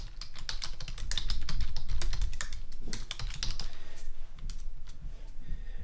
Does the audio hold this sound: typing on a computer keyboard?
yes